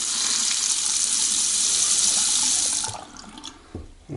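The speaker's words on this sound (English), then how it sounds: "Water is on." Water runs steadily from a repaired Delta faucet for nearly three seconds in a loud, broad hiss, then cuts off, leaving faint clicks and splashes.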